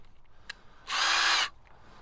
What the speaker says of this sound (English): I'm going to go in on top of that and just drill it out just a little bit more